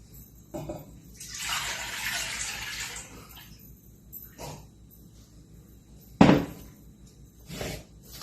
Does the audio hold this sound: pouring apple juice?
yes